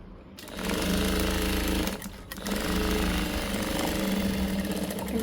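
A sewing machine stitches two pieces of a frock sleeve together, running in a fast, rhythmic mechanical chatter that stops briefly partway through and then starts again, close and steady.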